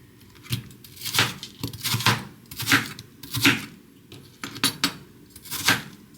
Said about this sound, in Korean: 망고 수박은 하나만 더 자르면 되겠다